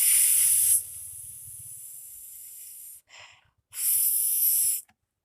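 A voice imitates a spinning fan's wind with a drawn-out, breathy V sound, given as a loud hiss that drops to a quieter stretch, then a short burst and a second strong hiss, with no talk.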